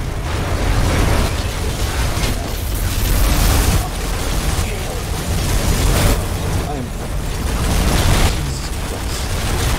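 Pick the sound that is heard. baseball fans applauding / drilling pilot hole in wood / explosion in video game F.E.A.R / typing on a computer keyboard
explosion in video game F.E.A.R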